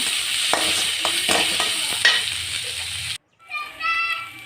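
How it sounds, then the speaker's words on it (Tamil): Onions sauté in a pan with a bright crackling sizzle and several stirring scrapes, then a sudden brief cut to silence before sizzling resumes, with children's voices faint in the background. "வெங்காயம் போட்டு வெங்காயம் நல்லா வதங்கணும்."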